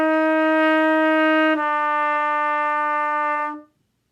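A trumpet plays a smooth slur from a held F down to an E, two even counts each, the tone never breaking between notes; the bright, steady sound is close and alone, then stops cleanly.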